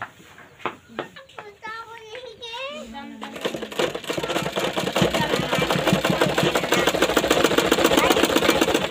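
A sewing machine stitches a petticoat, its rapid, even mechanical rattle starting a few seconds in and growing louder as it runs. Voices, including a child's, talk and call out over the opening moments.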